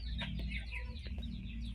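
Backyard chickens cluck in short scattered bursts over a low steady rumble, close but soft, with no one talking.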